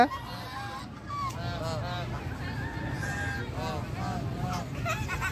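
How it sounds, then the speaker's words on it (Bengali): Ducks quack repeatedly in short, nasal honking bursts at close range, several calls overlapping, while people chat quietly in the background. "এটা হাঁস"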